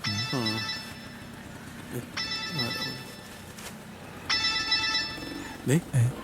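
A telephone rings in a Malayalam movie scene, three bursts of electronic ringing spaced a couple of seconds apart, fairly close, with voices speaking between and over the rings.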